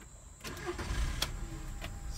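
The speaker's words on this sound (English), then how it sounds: "Let's go ahead and start the car." A 2004 Volkswagen Jetta engine cranks and catches, a short starter whir followed by the engine firing and settling into a steady idle, heard close and clear with no talking.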